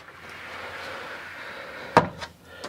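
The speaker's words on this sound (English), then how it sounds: "we can open this side here as one piece or slide them back" Sliding closet doors inside a 2019 DRV Mobile Suites 36 RSSB3 luxury fifth wheel RV glide with a steady rolling rumble, then a sharp thud as a door meets its stop, with a lighter knock just after.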